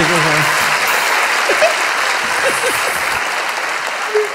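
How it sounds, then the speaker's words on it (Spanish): Studio audience at a Spanish-language comedy talk show clapping steadily and loudly throughout, a dense continuous wash of applause with a few faint voices poking through. "Mira, la gente cómo te aplaude el romance"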